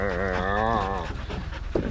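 Catahoula hunting dog at a pig hunting competition panting heavily, rapid breathy huffs close by, with a brief whiny voiced note at the start and a sharp click near the end.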